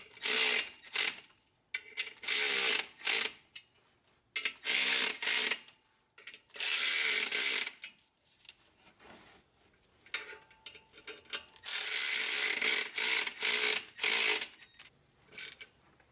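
A ratchet tightens the pressure plate bolts on a VW Jetta TDI clutch, with loud, close bursts of rapid clicking separated by short pauses as the tool moves from bolt to bolt.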